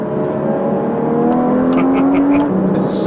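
A Porsche Cayman GTS sports car driving and accelerating, its engine note climbing steadily in pitch as it pulls hard, loud and close from the cabin.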